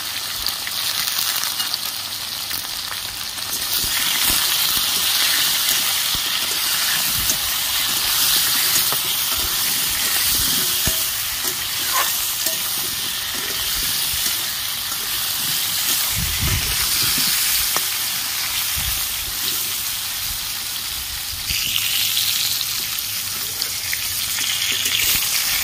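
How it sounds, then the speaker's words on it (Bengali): Pointed gourd (potol) pieces with a little turmeric and salt fry in hot oil, giving a steady, loud sizzling hiss that runs throughout, with occasional faint clinks and low thumps beneath. "পটলগুলো লাল করে ভাজা হয়ে গেছে, এবার আমি তুলে নেব।"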